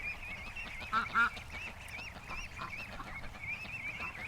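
Adult and baby ducks in a yard give a busy, continuous chorus of quacks and honking calls, with a couple of louder calls standing out, moderately close.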